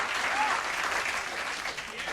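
A late-night television studio audience applauds steadily, a dense, even patter of many hands filling the room at moderate volume for a couple of seconds.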